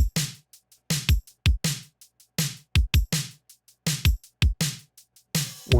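Fast synthwave drum groove at 162 BPM, played alone: punchy kicks, sharp snares and crisp hi-hat ticks in a driving repeating pattern, ending with a splashy cymbal hit.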